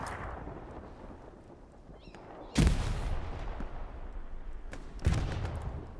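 Gunfire in the Hell Let Loose console game during a 49-versus-49 competitive match, two heavy booming blasts a few seconds apart over a low rumbling battlefield backdrop.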